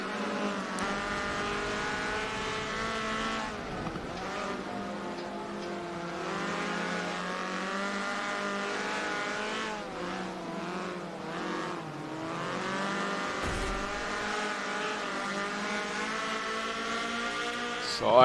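Group C prototype race cars running side by side on a circuit, engines droning high and steady with shifting pitch as they pass, heard under continuous commentary.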